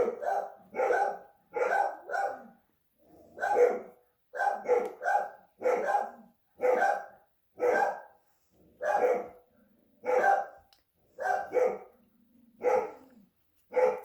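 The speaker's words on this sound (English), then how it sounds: "Apologize for the dogs." Several dogs bark in repeated bursts through a polymer clay crafting session, loud and close, in an irregular rhythm of single and doubled barks with short gaps and no talking.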